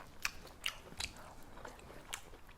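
Crispy chicken katsu bitten and chewed, four sharp crunchy bites spaced under a second apart, quiet and close with no speech.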